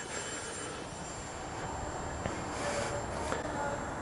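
A Twisted Hobbies Crack Turbo Beaver RC model plane flies near a house, its electric motor giving a steady buzzing drone with a faint high whine, moderately loud and fairly even throughout.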